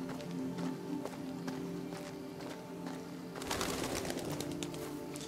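Pigeons or doves in the video game Detroit: Become Human give soft, low, repeated cooing over a steady ambient hum, then a burst of fluttering wing flaps near the end.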